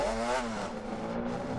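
A 2017 500 MMX motorcycle in the racing game Ride 4 screams at top speed, a loud, steady high-revving engine whine that climbs briefly before holding.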